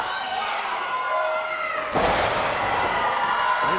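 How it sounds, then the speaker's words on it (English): A pro wrestler is slammed onto the ring mat at an LCW Wrestling event, giving one heavy thud partway through over continuous crowd noise and commentary. "Slater picks up Davis and slams him."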